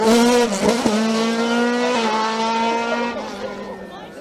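A Norma M20 FC race car in a CN-class hill climb at Bagnols-Sabran, its engine screaming loudly and close in a sustained high-revving tone as it shifts and passes.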